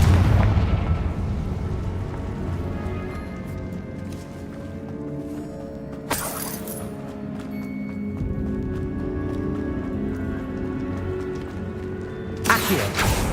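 Repeated explosive blasts from the Confringo fire spell in the Hogwarts Legacy video game, loud booming impacts with rumbling, ringing tails, including sharp bursts near the middle and end over a constant low game background.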